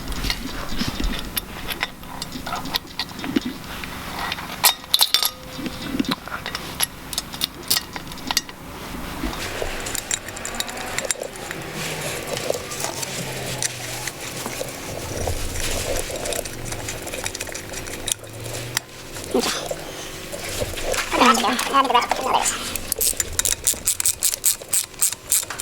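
A valve spring compressor tool works on a cylinder head's valve springs: steady, close ratcheting and metallic clicking with clinks and scrapes running throughout, no voices.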